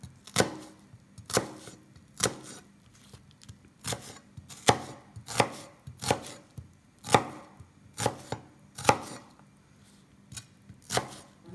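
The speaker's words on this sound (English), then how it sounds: "You can chop this as thick or thinly as you want" An onion is chopped with a knife on a cutting board during pumpkin soup preparation, giving a steady run of about fifteen crisp, close blade thuds at a regular rhythm with no talking.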